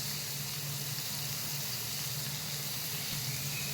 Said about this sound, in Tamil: அதில் கொஞ்சம் எண்ணெயை போட்டுட்டு ஆனியனை போட்டுடணும்.